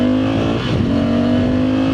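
A Honda CRF125 motorbike engine revs steadily and loudly up close, a continuous buzzing drone holding strong for about two seconds with a slight dip midway.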